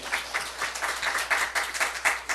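A church congregation applauding during a Sunday sermon, a steady patter of many hands clapping together at moderate volume for a couple of seconds.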